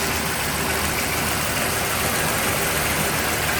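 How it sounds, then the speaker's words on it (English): A 1934 Ford Cabriolet's flathead engine idles smoothly and steadily, a continuous close rumble with no talk over it. "See how smooth that flathead's running."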